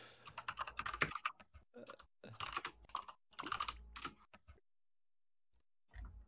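Computer keyboard typing during a gaming session, bursts of rapid close key clicks separated by pauses, fairly quiet, then a few isolated taps near the end.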